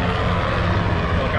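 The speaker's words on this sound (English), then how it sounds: "helicopter." A helicopter passes overhead near a VW bus converted into a rolling campsite, a steady loud rotor and engine drone that fills the whole moment without a break.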